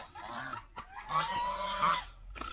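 Ducks at a farm in Cagayan Valley where ducks are slaughtered honk and quack near at hand in a series of loud, nasal calls, some overlapping, with short pauses between bursts.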